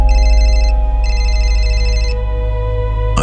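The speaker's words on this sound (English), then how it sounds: "Then my phone rang." A phone rings with two bursts of electronic trilling tone, loud and close, over a steady low hum that continues after the ringing stops.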